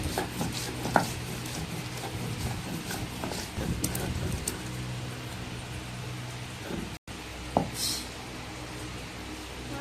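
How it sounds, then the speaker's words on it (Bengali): A kitchen knife chops ginger and green chilli with quick, uneven strokes that continue as a steady busy patter. A few sharper knocks stand out and there is a brief gap near the end. "কাঁচা লঙ্কার আদা একটু কেটে নিচ্ছি"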